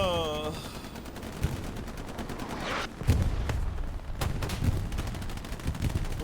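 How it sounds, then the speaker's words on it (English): Rockets and gunfire in the WWII shooter Hell Let Loose, with a tank battle near Carentan: loud, overlapping bursts of automatic fire and sharp impacts that grow denser after a brief lull, with no voices over them. "Rockets everywhere. Impacts, Tigers, Shermans, Fireflies,"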